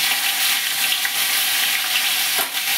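Nigella seeds and slit green chillies hit hot oil for a Bengali mustard hilsa dish, giving a steady, loud broadband sizzle that holds evenly throughout with a faint stir near the end.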